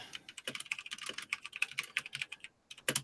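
Heavy-handed typing on a loud new computer keyboard: rapid, uneven clacks of individual keystrokes close by, with a brief pause before a final burst, no talk.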